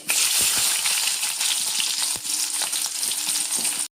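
Half a teaspoon of mustard seeds in about a tablespoon of hot coconut oil, spluttering with a dense, loud, close sizzle and sharp popping crackles throughout, ending abruptly, no voices.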